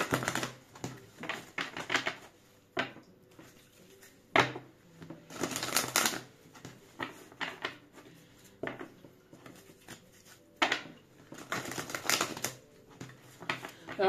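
A deck of tarot cards is shuffled repeatedly, with bursts of crisp riffling and flicking separated by short pauses, close up and fairly clear.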